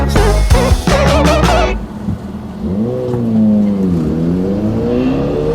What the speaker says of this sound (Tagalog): Motor yun, ha? Sa yung motor dyan.